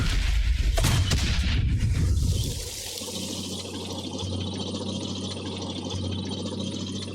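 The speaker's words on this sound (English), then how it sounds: "we need to shoot our way out of here" Heavy gunfire and explosive blasts erupt during a shoot-out in the Valiant Hearts video game, loud and dense for about two seconds before settling into a steady low rumble.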